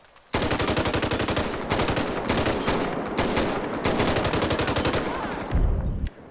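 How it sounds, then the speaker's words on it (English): A carbine rifle with overhauled gun sounds fires long sustained full-auto bursts in GTA V with LSPDFR, a loud rapid rattle broken by brief gaps and ending in a heavy low thump. "Carbine rifle."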